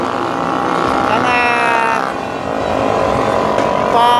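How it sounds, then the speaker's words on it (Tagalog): Motorcycles revved by young people at a 2022 New Year celebration, engines whining and rising loudly in overlapping bursts close by, with a pause in the middle before the roar climbs again. "paandarin ang kanilang mga motor."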